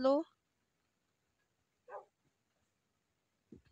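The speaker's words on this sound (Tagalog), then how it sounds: "Ang daming aso" Short, faint dog barks in Minecraft pop up sparsely, one at the start and others after long quiet gaps, small and thin like game sound effects.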